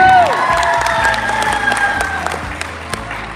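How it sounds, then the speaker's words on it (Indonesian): Audience applause for an event host at an Indonesian business seminar, a dense burst of clapping and cheering from a crowd that stays loud and fades slightly over a few seconds. "Kasih penghargaan luar biasa, tepuk tangan yang paling keren buat host kita, MC kita yang luar biasa untuk Pipin."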